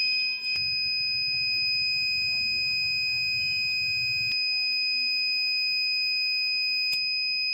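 A buzzer on an Arduino UNO water project sounds a continuous, piercing high tone that runs unbroken throughout, with a low hum and a few faint clicks underneath and no voices.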